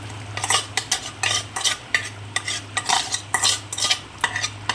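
Mustard-poppy seed paste being stirred into a frying hilsa fish curry, with repeated scraping spoon strokes over a steady low pan sizzle, close and moderately loud, no voices.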